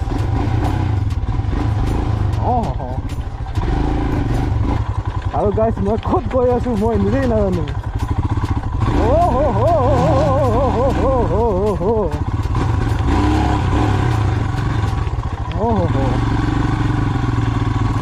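A Royal Enfield motorcycle rides off-road on a rough trail, its engine thumping steadily and close throughout while the rider talks over it almost continuously.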